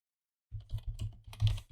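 Quick clicking keystrokes on a computer keyboard start after a short silence and come in close, uneven bursts.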